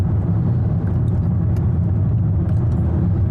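A car drives along a road in Central Florida, its steady low engine and tyre rumble filling the clip at an even, close level with no talking.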